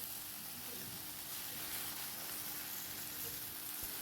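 Okra curry cooks on a home stove, giving off a soft, steady sizzle and hiss like light rain, faint and even throughout with no voices.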